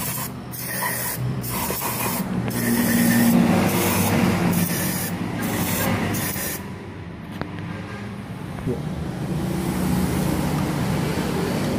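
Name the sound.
spraying throttle cleaner on CBR250RR throttle body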